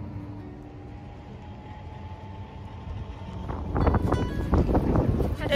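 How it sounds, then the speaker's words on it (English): A low background rumble builds into strong gusting wind buffeting the microphone outdoors in Santa Rosalia, growing louder and rougher toward the end. "it's cold and super windy out"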